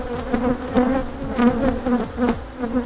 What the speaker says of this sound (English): A lot of bees in my veil